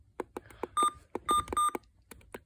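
Short electronic beeps from a NOAA weather radio being set up, a few clipped tones scattered between clicks and faint handling noise, fairly close and quiet.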